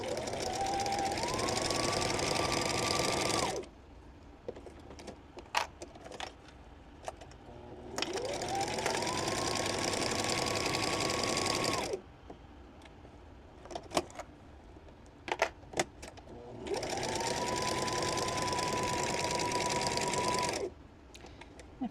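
A sewing machine stitches jar grippers in three loud, steady runs of fast, even whirring. Brief pauses separate the runs and hold clicks and fabric handling nearby.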